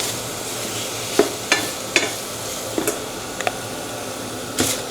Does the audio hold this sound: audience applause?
no